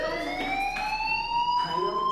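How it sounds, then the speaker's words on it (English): A fire alarm in the Life is Strange 2 video game sounds continuously, a steady electronic tone with slowly rising pitch and bright harmonics, loud and sustained with no speech over it. "do you hear that fire alarm?"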